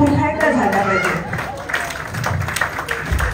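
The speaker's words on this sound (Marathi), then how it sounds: "या दोघांसाठी आणि त्यांच्या कुटुंबियांसाठी आज जोरदार टाळ्या पुन्हा एकदा झाल्या पाहिजे." A crowd of guests claps for a couple and their family at a baby's naming ceremony and birthday gathering, with sustained applause filling the room while a voice talks over it.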